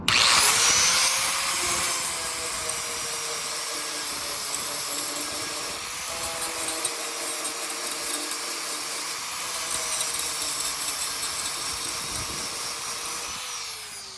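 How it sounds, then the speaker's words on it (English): A 40 grit sanding disc on a power sander whines steadily and loudly as it flattens welds on a Jeep body, a continuous high abrasive grinding with slight pitch dips, no talking. "this is a 40 grit sandpaper disc on here. So you just gotta go like this and flatten out all these welds."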